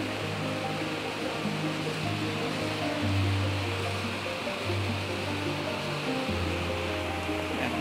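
The Ak-Suu river rushes and churns in a steady, loud roar of turbulent water, continuous and close, with no voices.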